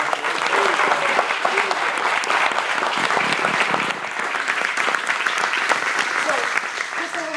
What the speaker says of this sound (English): one more time, round of applause for that